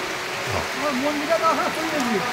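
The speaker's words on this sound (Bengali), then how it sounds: "কি সুন্দর লাগছে, বৃষ্টি পড়ছে।" Steady rain falls outdoors beside a spot where washed dishes and stored water sit, a continuous hiss running throughout while someone talks over it.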